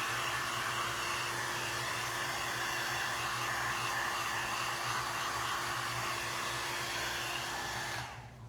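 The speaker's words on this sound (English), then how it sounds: "I can't tell if this heat gun is doing anything." A heat gun blows hot air over a craft project, a steady close whirring roar with a faint constant hum that cuts off at the very end.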